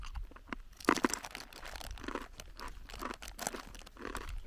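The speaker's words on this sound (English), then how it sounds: "So I'm going to try some of these other crisp breads. Try a piece on its own first." Crisp bread from a Ukrainian military ration being bitten and chewed: a sharp loud crunch, then a run of smaller dry crackles and crunches close to the mic, with no talking.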